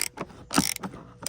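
A T20 Torx driver loosens screws on a Porsche Macan sunglasses holder, giving short bursts of close, crisp mechanical clicking in a quick uneven rhythm, about five bursts in all.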